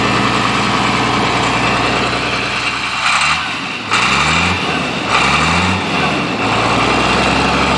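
An International 856 tractor, once stuck and now freshly revived, runs steadily with a loud, close diesel drone. The engine briefly dips and surges a few times midway.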